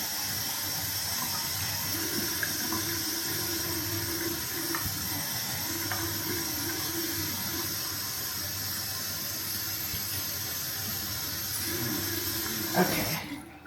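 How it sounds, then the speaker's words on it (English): Hot water pours steadily from a tap, a continuous broadband hiss and splash that holds for over twelve seconds, ending in a brief louder clatter near the end. "I put some hot water in."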